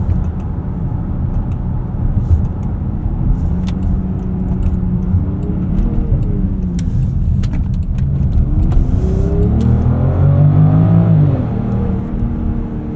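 A 2024 Range Rover Velar P400 with an 8-speed automatic accelerates in sport mode, heard from inside the cabin as a steady engine drone that rises in pitch through the revs and then shifts, with no talking.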